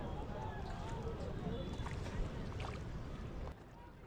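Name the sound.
small metal rowing boat on river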